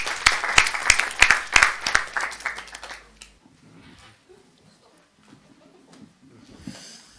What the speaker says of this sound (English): I think we can applaud ourselves on it.